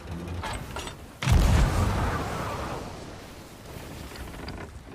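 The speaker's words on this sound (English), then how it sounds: "Get on the right side cannons." A single heavy boom from a ship's cannon in the pirate game Sea of Thieves hits at once after a quiet start, then rolls out into a long, loud rumbling decay that fades slowly over several seconds.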